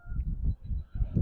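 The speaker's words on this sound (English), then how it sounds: "these people over here are messing with these geese." Geese honking outdoors nearby while people disturb them, a few loud, coarse calls in quick succession with short gaps between them.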